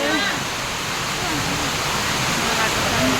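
Heavy rain pours down in a dense, constant hiss close by, steady and loud throughout the short stretch, with faint voices mixed underneath.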